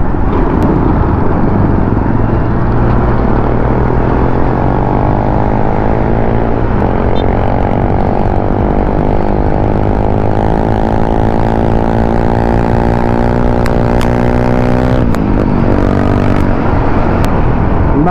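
A Suzuki Raider RS8 motorcycle rides steadily with its engine droning loud and close, the pitch rising and falling slightly through gear and throttle changes, with wind rushing over it the whole time.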